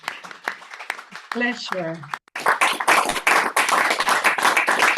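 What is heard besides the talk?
audience applauding the panel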